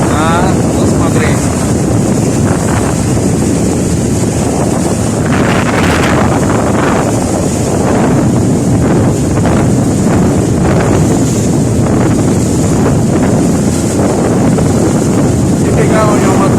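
A motorboat with a 325-horsepower engine runs near Russky Island in summer, its steady engine roar mixed with heavy wind buffeting against the microphone and splashing water throughout.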